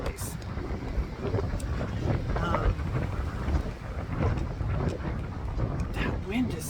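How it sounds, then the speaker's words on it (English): Strong outdoor wind buffets and roars steadily against the microphone, a loud broadband rush with gusting swells throughout. "That wind is something."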